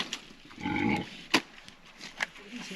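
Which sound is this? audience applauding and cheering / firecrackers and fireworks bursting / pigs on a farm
pigs on a farm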